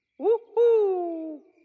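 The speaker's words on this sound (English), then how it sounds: "It's a girl owl." An owl in a cartoon hoots twice near and clear, a short rising call followed by a longer sustained hoot that slowly falls in pitch, alone against silence.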